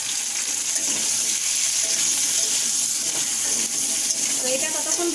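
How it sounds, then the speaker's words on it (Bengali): Potato pieces frying in oil with salt and a little turmeric in a home kitchen, a continuous close sizzle and crackle that holds steady throughout, with faint clinks near the end. "তো এটা ততক্ষণ ভাজা হোক।"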